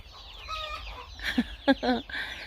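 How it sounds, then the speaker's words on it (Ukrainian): A small rooster perched in a cherry tree in a village yard gives a few short, soft clucking calls in a quick cluster after a quiet start, with faint background ambience. "Ось на дерево, на вишню, заліз і сидить півник."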